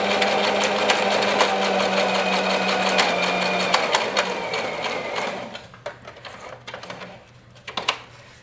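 Sewing machine stitching steadily at close range for about five seconds, then stopping as the fabric is turned with the needle down, leaving quiet handling noises and small clicks.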